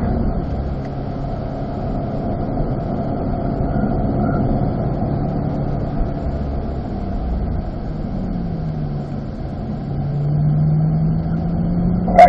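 A Corvette runs steadily on the Spring Mountain race track, its engine a constant low drone with a pitch that rises and shifts near the end as the car downshifts and picks up speed, with no talk over it.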